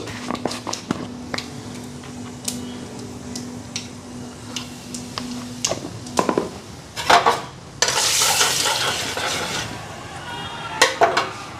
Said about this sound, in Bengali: কালো জিরা দিয়ে দিলাম হলুদটা তেলের মধ্যেই দিই